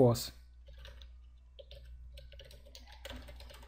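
Keys clatter on a computer keyboard while a command is typed into a Windows 7 workstation, a loud click opening a run of quieter, scattered keystrokes.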